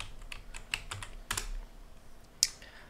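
Quiet computer keyboard typing at close range: a run of irregular light key clicks, ending with one sharper keystroke like Enter, no talk.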